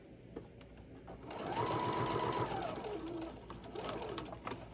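A sewing machine stitching fabric for a bowl cozy, its motor running at a steady whir for a couple of seconds before slowing, heard close and alone.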